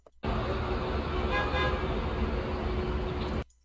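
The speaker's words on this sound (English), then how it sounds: "all I'm going to hear is the traffic sounds" Steady, dense street traffic roars throughout, with car horns tooting among the engine noise, loud and continuous.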